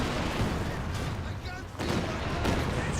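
Dense battle din from the WWII strategy game Company of Heroes 2: booming artillery barrage mixed with rattling Maxim machine gun fire, continuous and loud throughout, with a voice talking over it.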